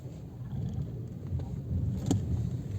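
A Honda CR-V on winter tires rumbles low and steady as it pulls away slowly uphill without throttle, with a faint rise in tone partway through.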